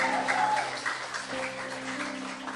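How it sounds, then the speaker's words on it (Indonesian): A church congregation claps in praise to God, a dense, sustained patter of many hands filling the hall, moderately loud and even throughout. "kalau Anda tepuk tangan dong buat Tuhan"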